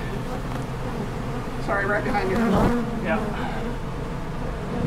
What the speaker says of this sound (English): So, these bees are all gathering up above here.